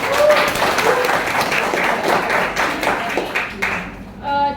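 A classroom of students claps hands in a lively, close burst of applause lasting several seconds before it trails off, with a voice speaking briefly near the end.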